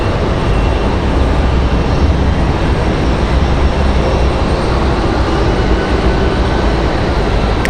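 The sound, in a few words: CRJ regional jet aircraft passing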